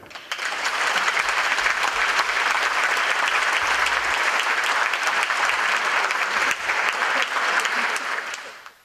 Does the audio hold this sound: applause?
yes